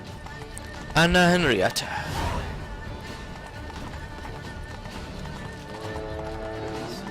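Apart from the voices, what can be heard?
Roach the horse galloping, from the video game The Witcher 3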